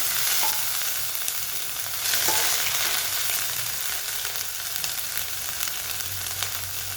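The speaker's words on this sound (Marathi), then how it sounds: "यात आपण ही अद्रक लसणाची जी पेस्ट बनवून घेतली आहे ती टाकणार आहोत" Ginger garlic paste frying and being stirred in a hot pan, with a steady loud sizzle and scraping from start to finish and no talking.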